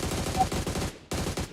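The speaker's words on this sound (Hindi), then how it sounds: "हॉल ऑफ फेम से भी गोलियां पड़ती हैं।" Gunfire rattles in a battle royale shooter game: rapid, evenly spaced automatic shots in two close, loud bursts separated by a short pause.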